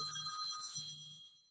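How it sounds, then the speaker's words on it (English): A mobile phone rings faintly in a lecture hall, a bright repeating electronic ringtone pattern heard at a distance with no one talking over it. "excuse my phone that I did not turn off"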